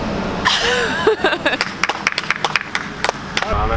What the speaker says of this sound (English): Want to see some applause?